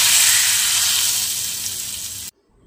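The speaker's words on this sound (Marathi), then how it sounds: "काय मस्त चुरचुरीत फोडणी बसले ना" Cumin, curry leaves and chillies hit hot oil for a tempering with a loud, bright, hissing sizzle that fades slightly over about two seconds, then cuts off abruptly into near silence.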